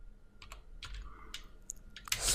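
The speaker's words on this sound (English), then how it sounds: "what I need to do is type in git" Computer keyboard typing at a Windows desktop, a short run of quick, light keystrokes in an irregular rhythm, close and fairly quiet with no talk.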